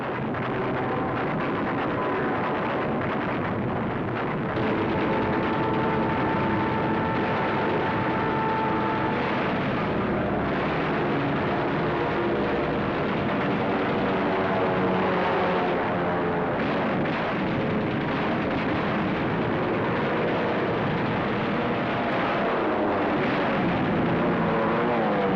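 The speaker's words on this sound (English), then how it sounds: "50 United States dive bombers were hurtling in from the sky." World War II United States dive bombers hurtle down from the sky at the Battle of Midway, a loud, continuous engine roar with a heavy rumble that swells and shifts throughout, with no voices.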